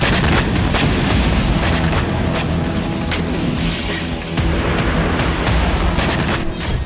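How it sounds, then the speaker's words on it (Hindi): Ukrainian tank shelling a house in Kursk during combat: continuous loud, dense gunfire and booming blasts rolling throughout, with sharp repeated reports over a constant rumble. "तभी इस मकान पर यूक्रेन के टैंक ने गोलाबारी शुरू कर दी।"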